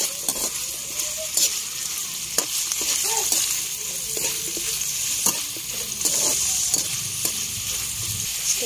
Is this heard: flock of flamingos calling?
no